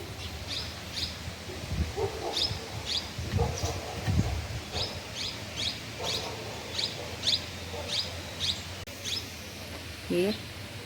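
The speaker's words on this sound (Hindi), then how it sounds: "और चिड़ियों की चहचहाहट और कोयल की प्यारी प्यारी सी आवाज़।" Repeated bird chirps ring out in a steady, evenly spaced series near Naina Devi temple, joined by a brief rising call near the end, all over a low background rumble.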